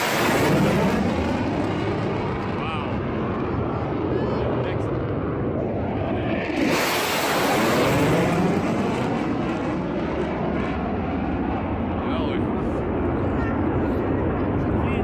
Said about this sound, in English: These F-35s doing a low flyby.